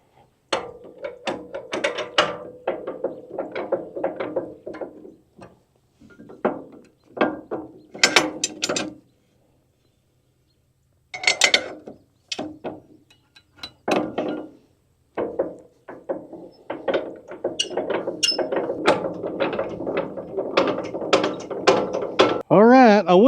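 A ratchet jack is cranked to raise a sawmill, giving bursts of rapid clicking pawl sounds with pauses and a few thunks in between. The sound is close and clear, with no talk over it.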